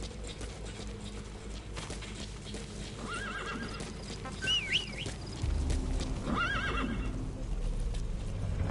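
A horse whinnies twice at a distance over a steady background rumble, with soft hoofbeats clopping along in the video game Metal Gear Solid V: The Phantom Pain.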